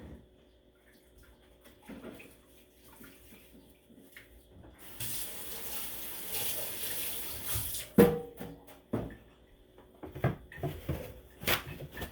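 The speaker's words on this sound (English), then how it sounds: "I'm gonna go ahead and wash my hands." A kitchen tap runs with a steady hissing water spray for about three seconds while hands are washed, followed by clunks and knocks of handling at the sink, close and fairly quiet.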